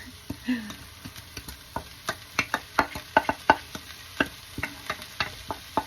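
Ground beef and carrots sautéing in a pot, with a steady sizzle under repeated sharp scrapes and clacks of a spoon stirring against the pot, close and moderately loud, no talking.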